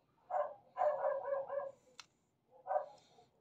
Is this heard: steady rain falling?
no